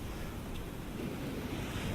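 Ocean waves surge and wash underneath the bottom side of a pier, a steady, dense roar of water with wind noise blowing across the microphone throughout.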